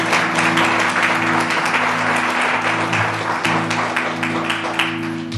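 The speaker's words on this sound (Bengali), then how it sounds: "যিশু জোরে করতালি দিতে হবে" A church congregation claps loudly and steadily throughout, with sustained music or organ tones running underneath the dense applause.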